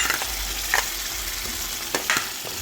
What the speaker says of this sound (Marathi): आता या कढईत आपण जे आहे पेस्ट बनवून ठेवलेली ती टाकून घ्यायची आहे.